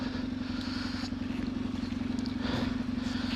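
An off-road motorcycle rides through woods, its engine droning steadily up close at a constant low pitch, with a slight rise in revs near the end.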